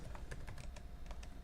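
Fast, steady clicking of keys on a computer keyboard, close but fairly quiet, with no voices over it.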